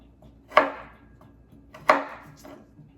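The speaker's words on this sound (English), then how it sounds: "I need to go ahead and finish chopping" Two crisp knife chops on horseradish root against a cutting board, spaced about a second and a half apart, each with a short ringing decay, close by in a quiet kitchen while ingredients are prepared for fire cider.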